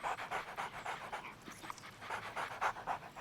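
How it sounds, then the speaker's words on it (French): Two dogs panting in a quick steady rhythm of short breathy huffs, close and fairly soft, with no other sound. "Ils sont à vous, ces deux chiens?"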